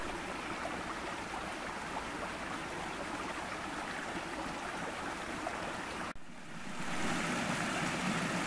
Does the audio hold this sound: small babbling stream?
yes